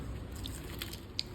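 Close, quiet biting and chewing of paneer eaten with hot luchi, a few soft crunchy bites over a low steady background.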